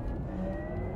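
A 2022 Porsche Taycan electric car accelerating hard, a brief, steady motor whir with road noise, moderately loud and alone.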